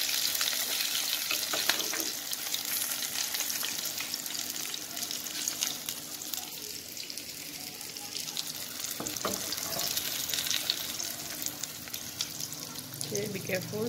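Fish sizzles steadily in hot oil, a dense continuous crackle and hiss that keeps going at a constant level, with occasional clinks and a faint voice underneath.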